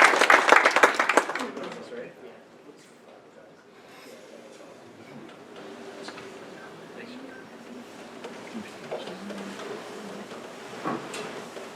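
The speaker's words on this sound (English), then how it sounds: "Let's give him a round of applause." A tech meetup audience applauds the venue host in a short burst of loud clapping that fades within about two seconds, followed by quiet room noise, shuffling and someone speaking.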